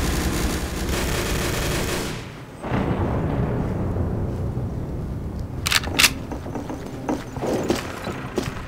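A grenade blast and gunfire in the online shooter Day of Defeat: Source on the Kalt map. A loud sustained roar cuts off, then rumbling battle noise returns with sharp gunshot cracks near the end.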